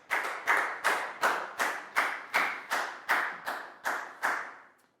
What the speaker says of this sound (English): a big round of applause for Dan